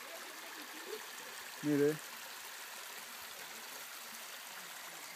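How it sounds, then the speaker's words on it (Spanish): Glacier meltwater flows at La Paloma glacier in Yerba Loca National Park near Santiago, Chile, a faint, steady wash of running water under open air, briefly broken by a single spoken word. "Miren el deshielo, el agua."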